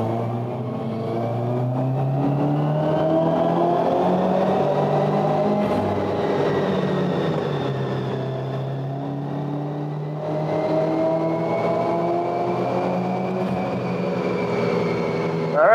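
Subaru WRX engine pulling under load on a dyno, a loud sustained drone with harmonics that rise and sweep as revs climb, dip briefly, then climb again through the run.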